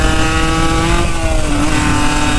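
A motorcycle engine revs high and loud up close, a tight buzzing whine holding steady, then dipping briefly and climbing again.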